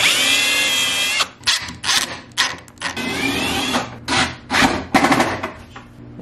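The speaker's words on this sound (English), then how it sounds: "I'm gonna use a center finding drill bit." A power drill with a center-finding bit whines up to speed, then drills in several short, loud bursts with brief pauses between, close by.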